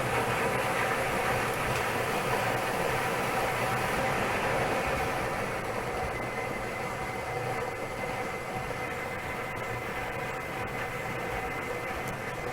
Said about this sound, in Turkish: Makinemiz ilk şanslı numaranın çekilişini gerçekleştirmek üzere toplarını karıştırmaya başladı.